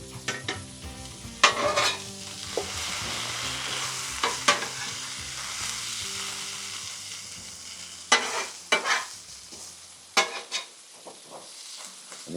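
Beef chuck roast sizzles steadily on a flat-top griddle, a continuous frying hiss with scattered sharp scraping and clanking bursts from a spatula or utensils, no voices.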